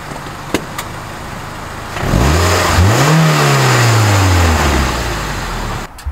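A car engine revs up, its pitch climbing then sliding back down for several seconds, with a few sharp crackling pops before and after.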